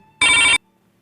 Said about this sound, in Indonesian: Oh, ada telepon.